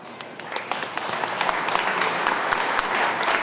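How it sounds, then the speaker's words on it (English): Steady applause from a crowd at a ceremony aboard the USS Hornet honoring the Tuskegee Airmen, many hands clapping continuously and fairly loud, with no talking over it. "let's have another round of applause"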